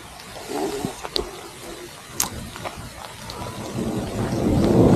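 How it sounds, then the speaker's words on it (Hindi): Heavy rain pours steadily outdoors near a large fort in Khyber, with a dense hiss of drops on surfaces and a few sharp close impacts, building louder toward the end. "बारिश बहुत ज़्यादा हुई है यार, कैमरे की आंख पर भी बारिश और मेरे ऊपर भी बारिश"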